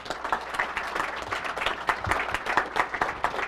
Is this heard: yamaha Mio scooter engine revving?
no